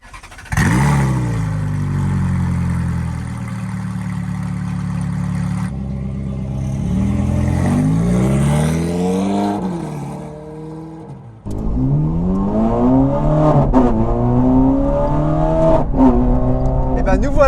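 A Ferrari 430 Scuderia V8 with an Inconel exhaust revs hard on a public road, climbing through several gears with sharp rising sweeps and brief drops at each shift. The engine gets louder toward the end, and someone speaks French inside the car.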